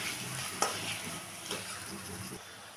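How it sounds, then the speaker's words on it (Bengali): Garlic paste and a large chopped tomato fry in a pan for a boal fish curry, giving a quiet, steady sizzle with a few light stirring scrapes and clinks. "দিলাম রসুনের পেস্ট একটু ভেজে নেব দিলাম একটা বড় সাইজের টমেটো চপ করে দিয়ে দিলাম দিয়ে এটাকেও একটুখানি ভেজে নেব"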